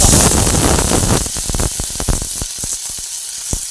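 Chopped ginger sizzles in hot oil in a pan, a loud hissing burst at first that settles into quieter crackling with sharp pops and spatters.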